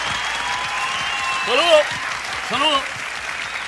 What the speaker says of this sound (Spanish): un fuerte aplauso, señoras y señores